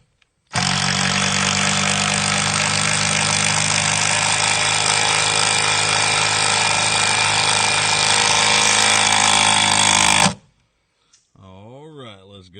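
Power driver sinking beefy 4-inch screws into shed framing on sloped ground, one long steady whine running about ten seconds, loud and close, then a brief quieter burst after it stops.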